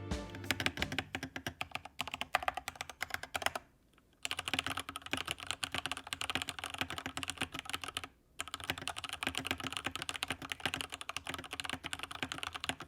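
Rapid clacking keystrokes on an IQUNIX mechanical keyboard with TTC switches, close and crisp in quick bursts, pausing briefly twice before the typing resumes; no voices.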